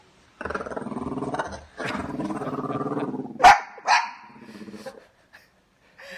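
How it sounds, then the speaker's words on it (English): A dog in full guard mode at a moose lets out a long run of loud, rough barking and growling, then a few sharper, separate barks that taper off near the end. "And Oreo now in full guard dog mode"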